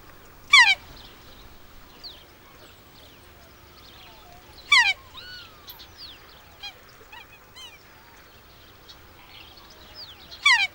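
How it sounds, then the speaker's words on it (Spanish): Cape Barren goose in Tasmania giving loud, harsh honks in three separate bursts spaced several seconds apart, with softer bird calls scattered between them over a quiet outdoor background. "criaturas chocantes, como este ganso del Cabo Barren"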